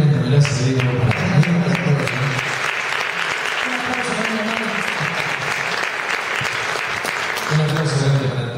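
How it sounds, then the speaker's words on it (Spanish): An audience applauds a live folk music quartet in a strong sustained round of clapping, with a voice speaking over the start and end of it. "Un aplauso grande para todo este cuarteto impresionante."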